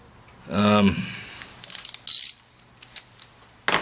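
A ratchet wrench with an extension tightens bolts on a snow blower, giving a short squeak followed by scattered close metallic clicks and ratcheting bursts.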